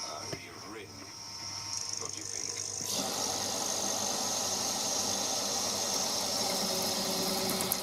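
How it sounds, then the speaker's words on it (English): A wood lathe whirs steadily at about 450–500 rpm while a 1-inch Forstner bit bores into the wood, the cutting growing louder and rougher partway through and continuing without pause. "using a bit of tape to mark the depth on a 1-inch Forstner bit to drill a hole"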